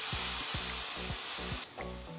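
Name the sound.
seasoning paste sautéing in oil for seblak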